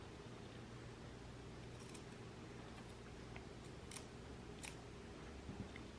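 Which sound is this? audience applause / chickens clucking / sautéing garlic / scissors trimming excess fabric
scissors trimming excess fabric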